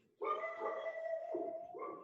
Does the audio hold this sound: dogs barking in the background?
yes